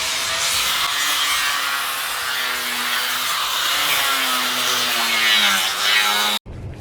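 An angle grinder sander working a board for the beach, producing a loud continuous whirring grind with a wavering pitch that cuts off abruptly near the end.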